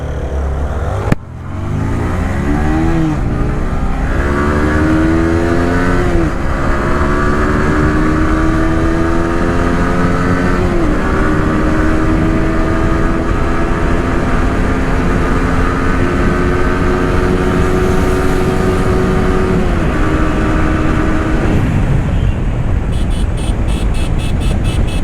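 Two motorcycles, an R15 and a 4V 160, race side by side in Bangladesh. Their engines roar loudly and steadily after a sharp start, pitch climbing through the gears, then fade near the end.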